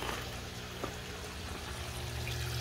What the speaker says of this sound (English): my water comes in right there